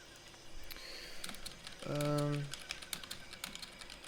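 Quick computer keyboard typing, clicky and moderately loud, runs as a scatter of taps through a tabletop role-playing session, briefly joined by a short tonal hum in the middle.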